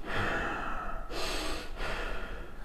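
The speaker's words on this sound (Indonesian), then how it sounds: "Suara napas yang ditarik dalam dan keluar dari hidung." Heavy, angry breaths drawn in and pushed out through the nose, two or three long audible cycles close by, rough and forceful with no talking.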